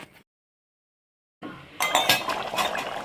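A lid goes onto a cooking pot of prawn curry after stirring. After a silent pause come a few sharp metallic clinks and rattles, close and fairly loud.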